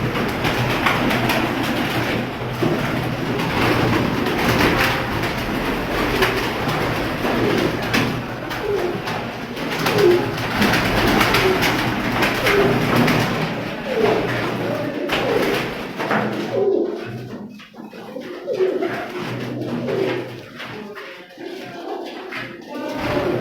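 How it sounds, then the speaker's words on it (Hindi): Pigeons coo in soft repeated phrases over a constant background rumble like a passing train, which fades out near the end. "ये कौन सा कबूतर है?"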